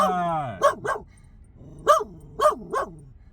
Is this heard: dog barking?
yes